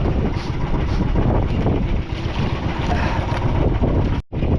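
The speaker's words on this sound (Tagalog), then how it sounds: "Medyo mahangin" Strong wind roars steadily and buffets the microphone, a constant rushing noise that cuts out abruptly near the end.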